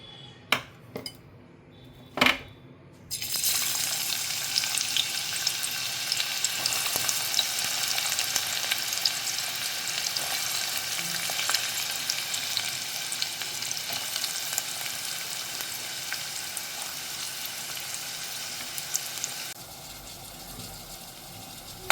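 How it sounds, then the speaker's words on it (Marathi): Onion fries in hot oil in a pan for a Bombay duck (bombil) and potato dry fish dish, a steady loud sizzle lasting nearly twenty seconds after a few sharp utensil clinks, then dropping off near the end. "हे बघा, कांदा मी त्यात घातलाय आणि छान असं परतून घेते."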